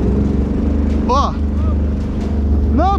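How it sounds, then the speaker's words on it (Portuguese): Jet ski engine revving hard and accelerating, a loud steady motor drone with rising pitch sweeps, while someone talks over it. "Eu tô acelerando tudo, rapaziada."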